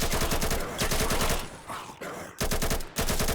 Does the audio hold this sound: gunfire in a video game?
yes